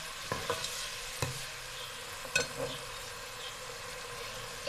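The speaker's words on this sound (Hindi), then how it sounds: "हम इसमें प्याज डाल देंगे और मिक्स करेंगे" Onions sizzle steadily in hot oil in a pan while a spatula stirs them, making a few sharp scrapes and knocks over the continuous frying hiss.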